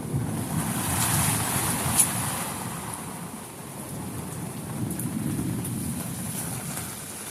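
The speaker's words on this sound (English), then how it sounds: "Look at that rain." Steady rain pours down during a backyard thunderstorm, a dense close hiss with a brief sharp crack of thunder partway through and low rumbling beneath, with no voices.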